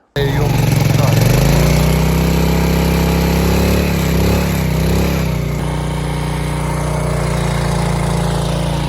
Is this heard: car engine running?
yes